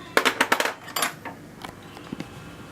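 Sharp metal clinks of a teaspoon against a jar and dish while hazelnut butter is scooped for making chocolate, several quick taps close by, then a few softer knocks.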